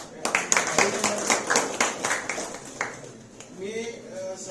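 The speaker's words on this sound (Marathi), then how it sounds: "टाळ्या वाजवून" An audience applauding at a farewell ceremony for a transferred police officer: a burst of many hands clapping, close and fairly loud, fading after a few seconds, with a voice speaking under the tail end.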